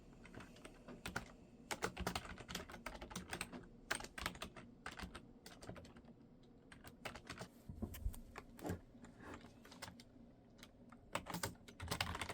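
Steady typing on a computer keyboard while writing, with continuous close key clacks in uneven bursts and occasional louder strikes, alone in a quiet early-morning room.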